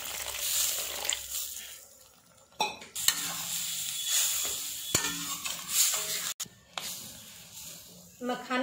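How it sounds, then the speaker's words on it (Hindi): Water is poured into a makhana and cashew gravy sizzling in a pan, giving a hissing sizzle mixed with repeated stirring scrapes and utensil knocks against the pan. "थोड़ा सा पानी डालेंगे।"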